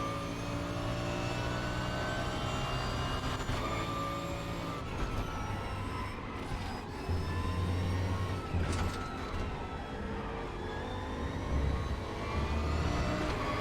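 Bentley race car in the RaceRoom racing game howling at full throttle, a steady loud engine drone with shifting pitch and brief revving changes, running continuously with no talk.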